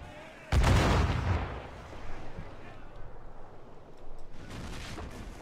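Ship cannons fire in the pirate video game Assassin's Creed 4 Black Flag, with one heavy, booming blast followed by rumbling, sea-like wash and a few softer distant thuds.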